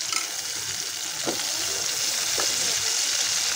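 Eggplant goes into a pan with thin dried fish and sizzles: a steady, moderate frying hiss with two short stirring scrapes.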